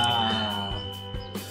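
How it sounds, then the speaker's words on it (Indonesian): A colonial-style, bell-shaped doorbell at a classic Dutch European-style house is pressed, giving a loud, sustained metallic ringing tone that fades slowly with small clanks, with no voices. "ini ada satu bel model yang sangat kolonial, bentuknya lonceng ya"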